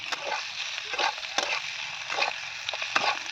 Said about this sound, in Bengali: পেঁয়াজ কলির সাথে আলুটা ভেজে নিচ্ছি